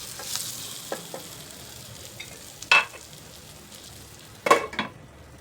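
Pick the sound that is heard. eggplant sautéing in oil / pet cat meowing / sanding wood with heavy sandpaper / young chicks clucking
eggplant sautéing in oil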